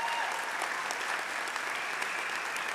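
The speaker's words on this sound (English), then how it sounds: "Let's give our faculty and staff a big round of applause." Steady, dense applause from a large convocation audience honoring faculty and staff, sustained evenly for a few seconds with no pauses.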